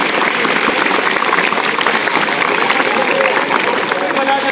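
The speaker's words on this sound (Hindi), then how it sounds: "जोरदार तालियों से स्वागत करें।" Steady, dense applause from a school audience at an Independence Day event fills the space, welcoming a former student as a guest, with crowd murmur mixed into the continuous clapping.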